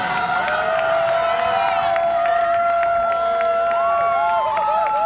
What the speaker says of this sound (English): Let's give him one more big round of applause.